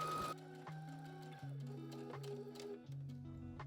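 A sewing machine stitches fabric straps and strap loops with a quarter-inch seam, a steady mechanical whir broken by short pauses and restarts, close and clear with no talking.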